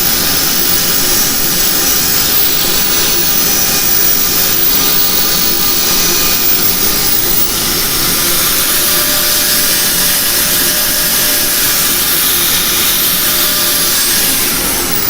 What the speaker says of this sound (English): you can take a lot more time with your sanding